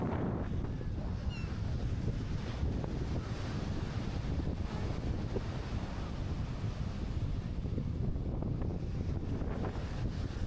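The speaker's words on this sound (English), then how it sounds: "the windiest day I've seen in a while" Strong wind gusts on the beach at Playa del Carmen, a steady loud roar buffeting the microphone with surf washing underneath, continuous throughout without talk.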